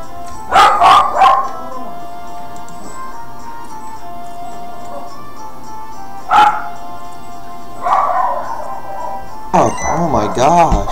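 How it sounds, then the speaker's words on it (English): A dog barks in a few short bursts near the start and middle, then again near the end, with a voice talking over parts of the clip and a video game playing quietly behind. "Sorry if you hear the dog barking."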